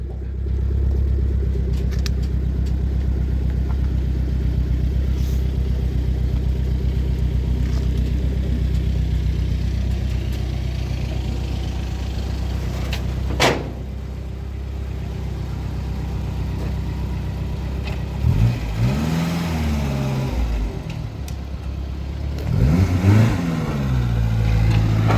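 A Renault 5 GT Turbo engine runs close by in a steady low rumble for most of the stretch, with a sharp click partway through and a couple of rising revs near the end.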